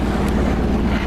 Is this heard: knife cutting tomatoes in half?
no